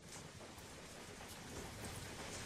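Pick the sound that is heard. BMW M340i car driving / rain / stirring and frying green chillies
rain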